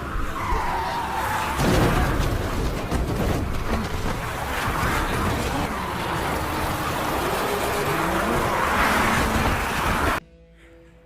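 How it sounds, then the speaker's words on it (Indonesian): A car driven hard through a zombie-filled city in the film Peninsula skids with loud screeching tires and a roaring engine, a sustained rush of noise that cuts off abruptly near the end. "Jung Seok berhasil diselamatkan oleh wanita remaja beserta adiknya yang imut dengan mengendarai mobilnya yang keren"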